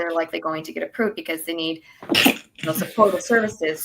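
A single sharp sneeze from a nearby listener bursts out between stretches of steady speech from a talker in an interview, brief and loud against the voice.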